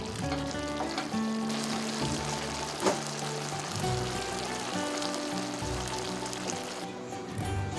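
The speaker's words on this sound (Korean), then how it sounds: "호박꼬지로는 가족이 좋아하는 돼지고기 볶음을 합니다." Pork and chewy dried zucchini strips stir-fry in a hot pan in a spicy seasoning, a steady loud sizzle running throughout with faint clinks of utensils.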